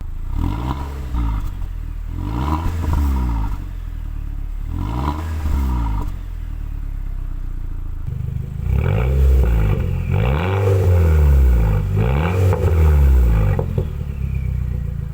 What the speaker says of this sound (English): We've still got the stock exhaust, a twin one-sided exhaust.